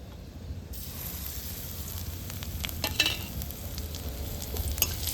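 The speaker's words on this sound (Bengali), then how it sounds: "এইভাবে পাঁচ থেকে দশ সেকেন্ড ভালো করে ভেজে নেব" Crushed garlic with black cumin and cumin seeds frying in oil sends up a continuous close sizzle that swells just after the start, with scattered sharp pops and crackles over the hiss and no talking.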